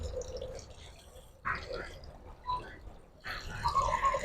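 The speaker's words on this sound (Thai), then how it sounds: "เปิดน้ำใส่ด้วยค่ะเปิดเบาๆมันจะกระเด็น" Tap water runs gently into a pot holding vinegar and salt in a kitchen, heard as soft intermittent pouring and trickling bursts at low volume, with faint dripping between them.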